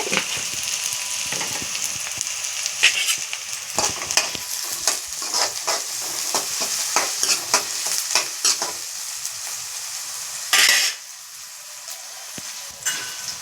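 Onions and green chillies sizzle steadily in an oiled pan for a beans gravy curry, with repeated close scraping strokes of a spatula stirring them, no voices over the cooking noise.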